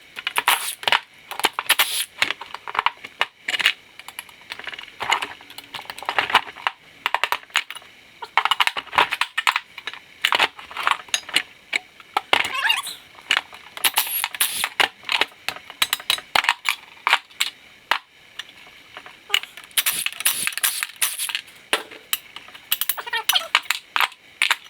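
Dense metallic clinks, clatter and ratcheting as connecting rods are pulled from a Subaru EJ25 engine on a teardown, with busy rapid bursts of tool and part noise throughout.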